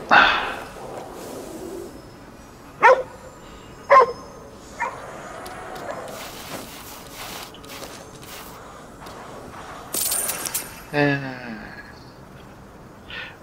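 A dog barks in the video game Ghostwire: Tokyo, a few sharp yips and barks spaced across the stretch, with soft footsteps and game effects between them and a short whimpering call near the end.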